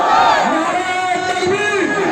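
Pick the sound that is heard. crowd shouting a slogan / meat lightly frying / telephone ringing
crowd shouting a slogan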